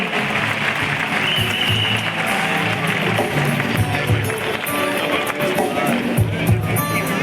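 Audience applause at a motivational success-story stage event, dense sustained clapping from a large crowd filling the whole stretch, loud and close, with some speech in the mix.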